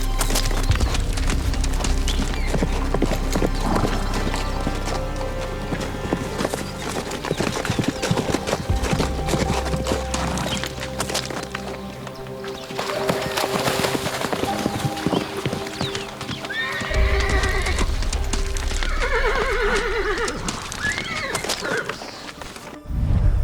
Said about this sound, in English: Horses fight with all they've got, charging and ramming or even biting.